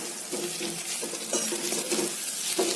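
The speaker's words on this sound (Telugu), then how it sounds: "ఇప్పుడు ఇందులోకి మనం ఈ వేగిపోయినటువంటి చామదుంపలు" Fried taro roots tipped into a pan with fried onions and green chillies, then stirred: steady oily sizzling with repeated scraping and clinks of a spoon against the pan, close up.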